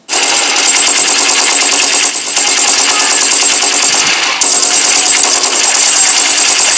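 Sustained rapid gunfire sound effect for a firefight on a ridgeline, loud and continuous automatic bursts with no pauses, no voices.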